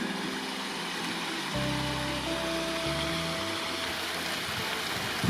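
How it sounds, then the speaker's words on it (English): Water falls in Cocklebiddy Cave, a cave out in the desert, as a soft continuous rushing. Low tonal hums come in after the first second and a half. "It's a beautiful sound. Sound of a waterfall."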